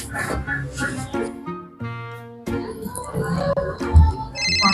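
Phone ringtone playing a repeating melodic tune on a handset in a Sundanese comedy skit, loud and near, with people talking before and after it.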